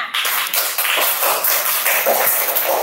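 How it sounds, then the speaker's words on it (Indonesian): Classroom applause as a class of students claps together at the end of a lesson, a dense, continuous patter of many hands that stays loud and steady throughout. "Tepuk tangan untuk kita semua."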